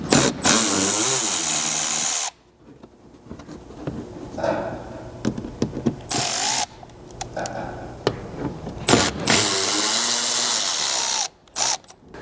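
Cordless power drill driving out T15 Torx head fasteners from the front wheel liner of a ZR2 Colorado, bursts of close whirring and ratcheting separated by short pauses, loud and alone.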